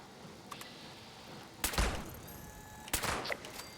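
Two sharp pistol shots in Fallout 76, roughly a second apart, each a loud close crack with a brief decaying tail over a low ambient game background.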